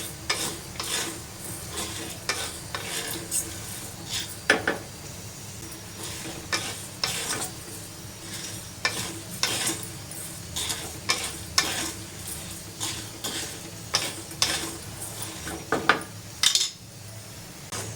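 Barnyard millet and sago dry-roasting in a pan while a spoon stirs them, producing repeated scraping and clinking strokes of metal on pan over a soft rustle, close and fairly loud.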